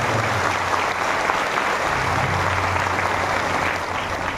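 Steady applause from a gathered crowd at a spiritual resolution yatra event in Bastar, dense and continuous throughout with a low hum underneath.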